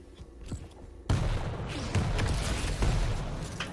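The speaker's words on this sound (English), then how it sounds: "rocket after rocket whizzing by" Rockets flying past and exploding in a Quake Pro League match, a chaotic series of loud blasts and thuds in quick succession after a quieter start, with no talk over them.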